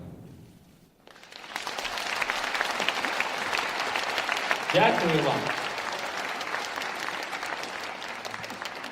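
Concert audience applauding at a live performance of a Ukrainian love song, a dense steady wash of clapping that swells in after a quiet start and holds loud throughout, with someone briefly speaking over it midway.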